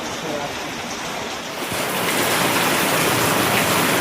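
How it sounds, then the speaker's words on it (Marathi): Floodwater rushing outside a village home during a flood: a steady broadband roar that swells louder partway through and holds, close and continuous with no talk. "पूर आला इकडे. एवढा पाणी."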